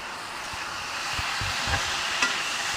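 Katla fish curry with potatoes and drumsticks being sautéed in a pan, a low steady sizzle under occasional soft spatula scrapes and knocks against the pan.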